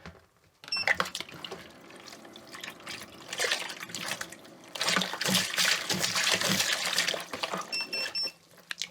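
Water poured into a wine fermenter while preparing a Chile Merlot kit, a trickling, splashing stream that starts after a short pause, swells louder midway and runs steadily before easing off, with some voice in the background.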